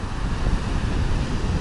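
Rough Sea of Azov surf and strong wind at a wild beach near Golubitskaya, a steady loud broadband roar with wind buffeting the microphone throughout and no talk.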